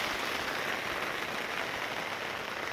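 Rain falls steadily outside in a vegetable garden, giving a soft, continuous hiss of drops pattering on leaves and ground. Moderate in level and unbroken, with no voices over it.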